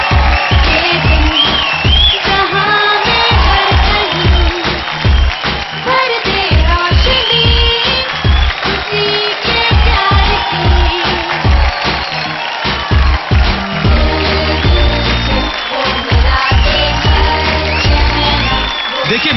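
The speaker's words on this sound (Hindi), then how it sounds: "जोरदार तालियां हमारे जजेस के लिए" Studio crowd on India's Got Talent cheers, whoops and claps for the judges while loud, pounding music with a heavy rhythmic beat plays throughout, the crowd noise layered over the thumping track.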